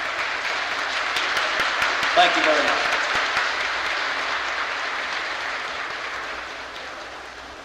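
Audience applause at a 1972 tsymbaly contest in Winnipeg, Manitoba: a broad, sustained roar of clapping from a large crowd that swells and then slowly fades, with someone briefly speaking over it.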